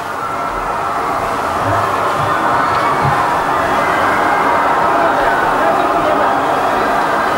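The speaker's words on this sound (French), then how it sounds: "écoutez aussi les cris de la foule pour la première fois" A large crowd at a Ceausescu rally in Romania roars and shouts in a dense, continuous din that swells into panic, with many overlapping voices and no pause throughout.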